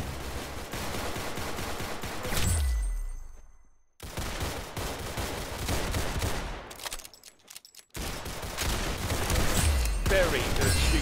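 Rapid bursts of gunfire from the Roblox Arsenal video game fill the clip, loud and dense, cut by two brief silences before the shooting resumes.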